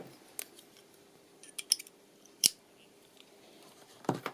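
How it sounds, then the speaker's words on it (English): Scissors cut around a paper pop-up card design, giving a few sparse, crisp snips and rustles spaced irregularly across a quiet room, close and fairly soft. "And now I'll use the scissors and I will cut around the design here."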